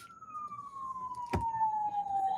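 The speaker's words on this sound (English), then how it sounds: "There's a siren." Emergency siren passing outside in Memphis, a single steady tone sliding gradually downward as the vehicle moves off, loud and clear with a brief thump partway through.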